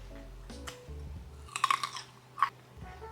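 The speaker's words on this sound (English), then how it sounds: "Listen to this crunch." Crisp crunching of a grape being chewed close up, a few sharp bites then quieter chewing, with no talking.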